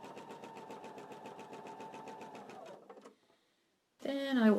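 A domestic sewing machine stitches quilt pieces in one continuous chain, running steadily at close range for about three seconds before slowing to a stop. A short silence follows, then a voice starts talking.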